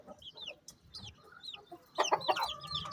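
A broody hen clucks in a small home chick-breeding setup, a short run of close clucks rising near the end, with other birds chirping and calling around her.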